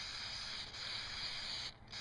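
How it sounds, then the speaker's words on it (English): Dupli-Color rust fix sprays from an aerosol can in a steady, close hiss that cuts out briefly near the end before resuming. "Now the Dupli-Color rust fix, you can see on here, and I'll spray a little"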